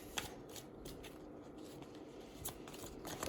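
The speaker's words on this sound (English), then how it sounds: "I wish you could see me shuffle." A deck of tarot cards shuffled by hand during a reading, giving soft, quick papery riffles and rustles in irregular bursts, close and quiet, with no talking.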